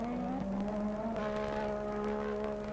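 A 1985 Formula 1 race car at the Adelaide street circuit corner, its engine a steady high whine with a gear change partway, distant and even in level.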